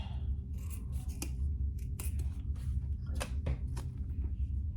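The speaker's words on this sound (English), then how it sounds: "Man, I need my sharper scissors," Scissors snipping fabric while making a crossbody bag, several sharp cutting clicks at irregular intervals over a quiet low hum, close and fairly soft.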